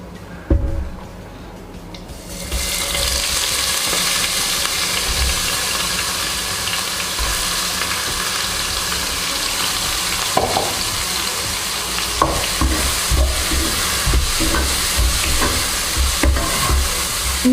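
Ground onion paste frying in a pan for a chicken gravy, a loud continuous sizzle close by with occasional scraping stirs, starting after a short quieter moment and running steadily with no speech.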